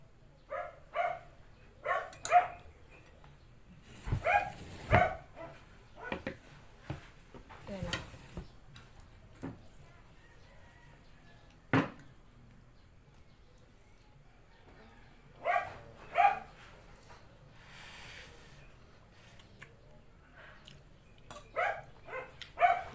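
A dog barks in short bursts of two or three, scattered across the stretch, with quiet pauses and a few faint clicks between them.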